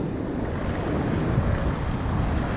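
Ocean surf and strong wind at Ho'okipa, Maui during a windsurfing session, a steady broadband roar of moving water and gusting wind buffeting the microphone, close and continuous with no talk.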